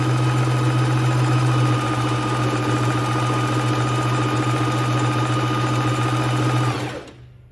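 A bernette b05 domestic sewing machine runs steadily, stitching a decorative pattern with a continuous close motor hum and rapid needle clatter, then winds down and stops near the end; no one speaks.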